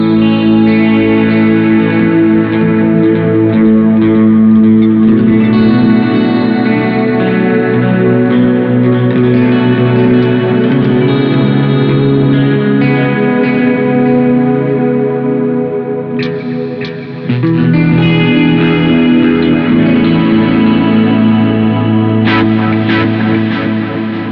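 A coil-split 1972 Fender Telecaster drenched in ambient shoegaze effects swells into a loud, sustained wash of distorted, chorused and reverberant chords, with a brief dip and shifting texture before the dense drone resumes.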